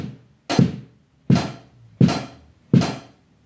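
A drum kit's bass drum and hi-hat hit together in a flam, sounding as four evenly spaced close thumps with a bright sizzle on each, played alone with no talking.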